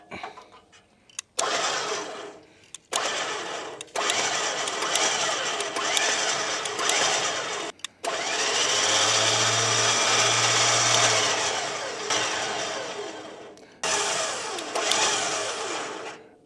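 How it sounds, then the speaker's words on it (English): An electric winch respools its line against a soft shackle, whirring in several bursts separated by short stops, with one longer steady pull in the middle carrying a low hum. "I'm going to go ahead and get the winch controller and get it started"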